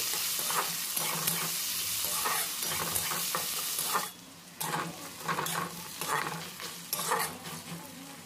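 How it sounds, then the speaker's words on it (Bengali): Chopped onion frying in oil with cumin seeds in a pan for a beans and potato curry: a close, steady sizzle with rhythmic stirring scrapes, briefly dipping midway before the hiss returns. "এবার আমি দিয়ে দিলাম পেঁয়াজ কুচি। পেঁয়াজটা এখানে হালকা ভেজে নিতে হবে।"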